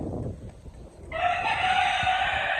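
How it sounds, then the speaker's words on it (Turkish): A rooster crows loudly and nearby, one long sustained call rising out of quieter rustling and background noise. "Horozu çekelim mi? Bağırıyor bak."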